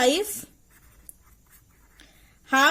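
Writing on a board during a chemistry lecture makes faint scratchy strokes and light taps in a quiet pause, with a teacher talking briefly before and after.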